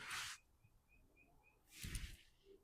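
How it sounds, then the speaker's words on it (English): A mockingbird in a garden gives a short series of five evenly spaced, thin whistled notes, faint and somewhat distant, between louder bursts of rustling noise. "sounds like my alarm because it's a mockingbird."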